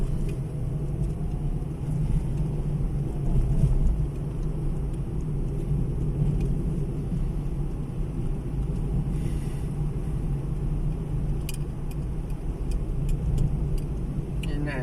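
Steady, close rumble of heavy car traffic along the road at Suan Son beach, a dense, unbroken low roar lasting throughout, with voices faintly mixed in.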